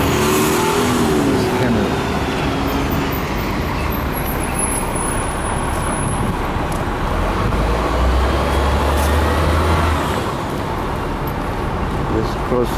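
Downtown Orlando road traffic with cars and buses: a dense, loud, continuous roar of passing vehicles and engine rumble, close by, with a person talking over it.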